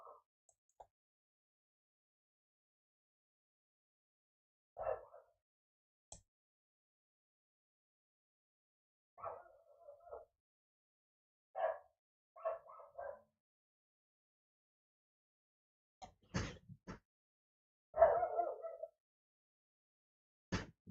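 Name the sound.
dogs barking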